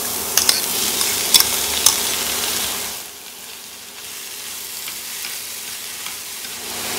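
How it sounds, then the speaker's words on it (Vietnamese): Shrimp stir-fried with jicama and carrot in a pan for a savory bánh đúc filling, a bright close sizzle with quick utensil scrapes early on, then the frying drops to a quieter, steady hiss; no voices. "Bây giờ mình sẽ cho tôm vào mình xào tiếp nè"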